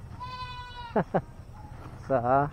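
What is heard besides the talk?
goat bleating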